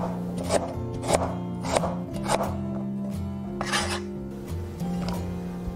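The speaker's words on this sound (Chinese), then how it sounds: "生姜切块" A knife chops fresh ginger into chunks on a board, sharp regular knocks repeating about every half second, close and clear, with a steady hum underneath.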